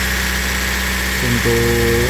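A Suzuki Sigra car engine running at a steady idle with constant mechanical hum and vibration, its tone shifting and rising slightly toward the end.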